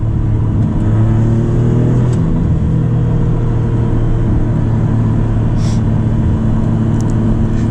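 A 2024 Maserati MC20 driving, with a loud, close, steady engine drone and low rumble continuing throughout, plus a few faint brief clicks.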